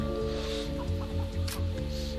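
A chicken in the video game DeathSpank clucks in short, choppy bursts over a sustained, droning game music bed.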